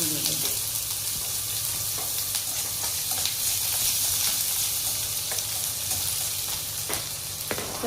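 Garlic fries in hot oil for a tempering, giving a steady, dense sizzle close by with light stirring scrapes, fairly loud and continuous throughout.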